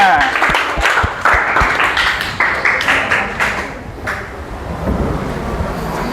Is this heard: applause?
yes